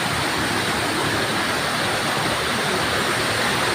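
Water pours down a waterfall beside the Panchalingeswar hill temple, a loud, steady, dense rush that fills the whole stretch with no breaks.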